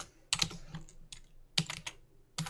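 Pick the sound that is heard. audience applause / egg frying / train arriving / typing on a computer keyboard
typing on a computer keyboard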